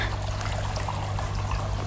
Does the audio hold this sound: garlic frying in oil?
no